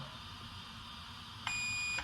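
A single long electronic beep from an Arrma BLX electronic speed controller in programming mode, steady and high-pitched, starting abruptly and holding for about half a second over a constant background hum.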